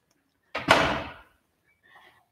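An old door in a religious congregation building swings open with one loud creaking, scraping sweep lasting under a second, followed by a faint rattle of its latch.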